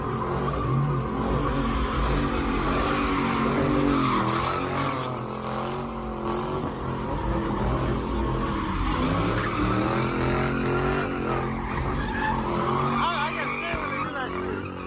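Cars skid and screech their tires at a street gathering in DC, with one car's tire popped, producing repeated loud squeals and engine revving, close and continuous with a crowd and people talking throughout.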